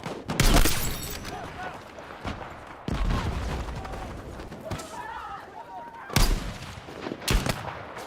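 Sniper rifle fire in Battlefield 6 comes as four or five sharp, loud cracks spaced seconds apart, with a voice talking in the gaps between shots.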